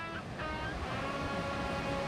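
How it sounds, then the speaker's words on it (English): A waterfall on a trout stream in East Tennessee roars with a steady, broad rush of falling water, continuous and fairly close, with no voices over it. "There's a set of waterfalls right there"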